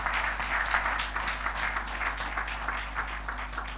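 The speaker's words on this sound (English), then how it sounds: "Can we applaud her in her absence?" A church congregation at an RCCG parish claps together in a steady, dense wash of applause that holds evenly throughout, fairly close and sustained without voices.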